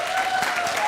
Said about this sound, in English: everybody put your hands together for Karl